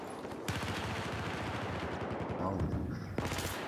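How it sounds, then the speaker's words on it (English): Grenade blast and rapid gunfire in a PS4 shooter game during an esports match, with bursts of automatic fire and a heavy explosion layered under excited commentary. "Oh, another nade."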